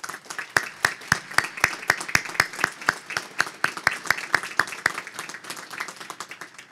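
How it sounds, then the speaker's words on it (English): Audience applause for college faculty at a commencement ceremony, heard as a scattered crowd of distinct, sharp hand claps with a loose rhythm that stays fairly steady and even throughout. "Please join me in acknowledging EAC's professionals with a round of applause."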